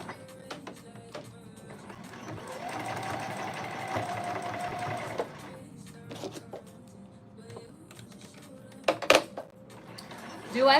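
A sewing machine runs in a steady whirring burst while basting layered fabric petals together, then stops, followed by lighter handling clatter; fairly close and moderately loud.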